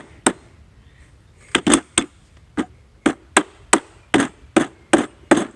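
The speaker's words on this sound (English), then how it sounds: "Rubber mallet won't hurt anything." About a dozen dull, solid thuds of a rubber mallet hammering the legs of a metal service cart, irregularly spaced, some in quick pairs, close and fairly loud.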